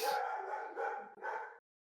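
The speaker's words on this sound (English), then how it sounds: "dog doesn't like that I went" A dog barks in two or three loud, close, harsh bursts over about a second and a half, with no talking.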